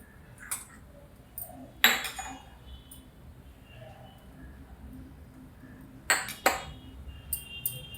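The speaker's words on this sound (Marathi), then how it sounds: "हे सगळं मिक्स करते याच्यामध्ये." Steel spoon clinking against a bowl as gram flour, rice flour and coriander powder are mixed, a few sharp clinks and soft scrapes spread apart over a quiet kitchen background.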